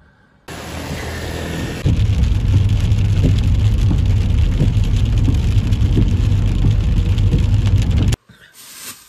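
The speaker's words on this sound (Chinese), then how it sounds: "下雨了，咱现在往家走" Steady rain drums on a car, a dense, loud, continuous hiss with scattered drops, heard from inside a parked vehicle at night before cutting off abruptly near the end.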